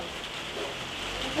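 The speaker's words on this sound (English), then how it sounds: "Can you hear the rain? It's awful." Heavy rain pours down outside as a steady, faint broadband hiss with no other distinct sounds.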